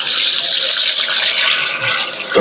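Tofu is dropped into hot cooking oil, setting off a loud, steady, close sizzle and hiss that carries through the whole moment without a break.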